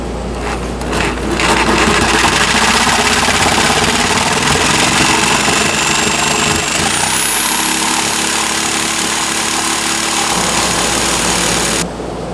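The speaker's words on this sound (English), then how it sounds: "I'm using my jigsaw." A jigsaw cuts 12-degree angled sides on a wooden table panel, a loud, close, continuous buzzing rasp whose tone shifts partway through before the blade stops near the end.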